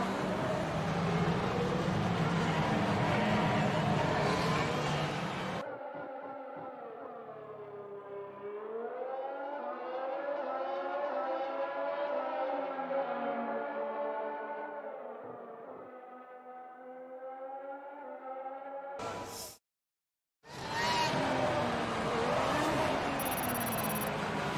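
Formula 1 cars in the F1 2021 game at the Austria circuit, a loud sustained high-pitched engine whine rising and falling in pitch as cars pass, cut by a brief silence.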